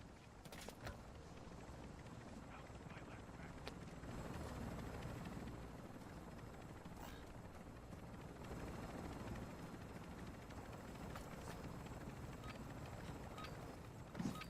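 Helicopter rotor thumping overhead in the video game Call of Duty: Modern Warfare III, a steady broadband drone running throughout amid game ambience.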